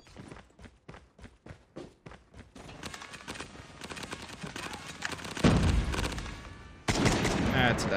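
SKS rifle gunfire in a ranked video game match, opening with a rhythmic string of evenly spaced sharp shots, followed by denser loud firing and impacts, with a heavy blast late on.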